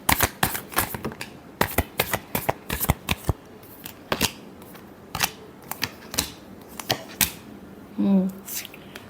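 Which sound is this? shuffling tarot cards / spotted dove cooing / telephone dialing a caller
shuffling tarot cards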